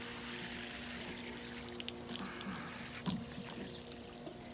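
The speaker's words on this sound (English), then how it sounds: "So I'm gonna water the top." Water poured from above onto cucumber plants in a garden planter, a steady splashing trickle running throughout with a constant low hum beneath, moderately close.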